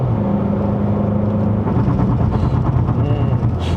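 Audi A1 1.4 TFSI on a test drive, its engine droning steadily from inside the cabin as it downshifts, with the pitch shifting partway through and someone talking over the engine noise.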